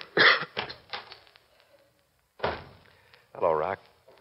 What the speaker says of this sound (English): I'm going to get you something for that cough.